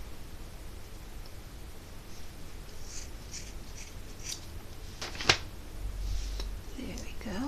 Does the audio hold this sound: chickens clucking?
no